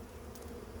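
Honey bees buzz during a hive inspection, a steady low droning hum that stays fairly faint and continuous over a brief moment.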